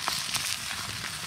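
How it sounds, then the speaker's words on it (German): Fish and herbs sizzle in a pan over a campfire by the sea in rain, a close, steady crackling fry with scattered brighter pops and no voices. "Wie es lecker brutzelt, Leute."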